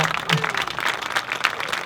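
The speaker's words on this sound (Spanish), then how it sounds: "querría pediros un aplauso para Rafa Mayoral" Applause from a political rally audience in a town square for Rafa Mayoral, a dense steady wash of many hands clapping close by, with a faint voice underneath.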